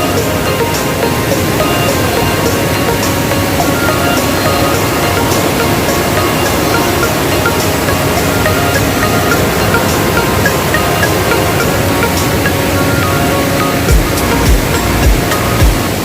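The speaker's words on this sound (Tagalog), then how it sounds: "malaki ang agos" Strong current pouring over Pari Falls in Bulacan, a loud, unbroken roar of churning water holding steady throughout at close range.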